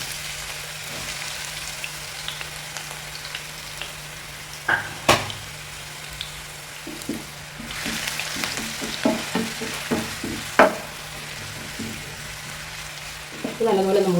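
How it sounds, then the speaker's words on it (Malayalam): Sliced onions frying in coconut oil in a pan for egg biriyani, with a steady soft sizzle and intermittent clicks and scrapes of stirring. "നമുക്ക് വറുക്കാനുള്ള സവോള ഇതിലേക്ക് ഇട്ട്"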